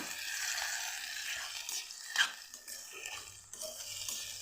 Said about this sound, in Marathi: याला पण छान परतवून घेते मी